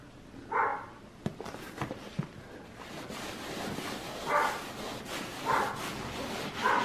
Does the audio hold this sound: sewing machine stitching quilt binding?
no